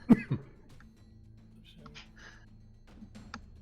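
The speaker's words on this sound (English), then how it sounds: "I was not the one coughing." Two sharp coughs at the start, with low talk and faint background noise after them.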